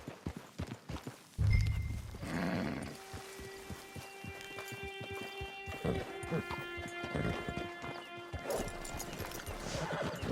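Horse hooves clip-clopping in the Red Dead Online game, followed by a loud whinny and snort, then steady plodding hoofbeats under sustained musical tones, fairly close.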